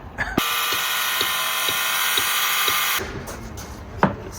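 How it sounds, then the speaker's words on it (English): Chisel work on old boat timber, cutting out a decades-old screw slot near the stern stem: a close, steady, harsh scraping grind with regular faint knocks, stopping abruptly, followed by a few sharp taps. "I can do this where I'm chiseling out the slot of a screw that was put in there before I was born"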